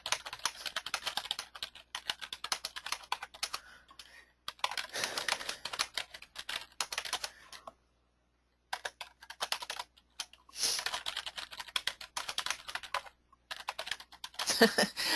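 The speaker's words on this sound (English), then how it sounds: "you can come down here and you can type in your text" Someone types an email on a computer keyboard, producing quick, close clicking bursts broken by short pauses and one longer silent gap.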